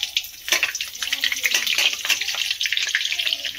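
Butter goes into hot oil in a pan while paneer butter masala is being made, giving a steady bright sizzle and crackle throughout with faint background sounds.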